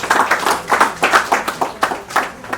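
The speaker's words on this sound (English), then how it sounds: "Please can we give him a loud round of applause?" A small group of people clapping after a workshop talk, with about a dozen uneven bursts of claps close by, short and fairly sparse rather than a dense ovation.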